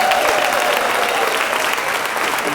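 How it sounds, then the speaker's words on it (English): Dense, loud crowd applause for the Brooklyn Borough President at a State of the Borough address, a steady roar of clapping with faint cheering mixed in. "Give it up for that son of the South Side and your and my Brooklyn Borough President, Antonio Reynoso."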